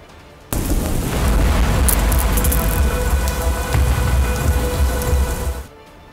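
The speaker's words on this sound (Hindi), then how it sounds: "लाहौर में कई घंटों तक बरसने वाली तबाहकुन बारिश" Heavy rain pours down over Lahore in a dense, steady roar that starts abruptly and stays loud throughout, with a deep low rumble underneath and no voices.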